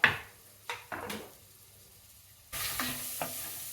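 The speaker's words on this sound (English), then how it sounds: "we're getting to the end of our vegetable browning process here" Vegetables browning in a pan for pork ragu give a few short scraping stir strokes at close range, then a steady louder sizzle rises toward the end, with no talking.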